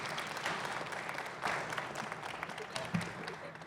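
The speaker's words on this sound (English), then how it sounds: "Let's give them another round of applause as well." Audience applause at an outdoor groundbreaking ceremony for a commons and parking garage, a steady wash of clapping at moderate level with a few brief swells and some faint voices mixed in.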